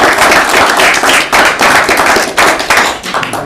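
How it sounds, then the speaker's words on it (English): Steady, dense applause from an audience at a PhD defence ceremony, many hands clapping close by for the full length with a slight dip near the end. "Yes, and of course we're going to applaud."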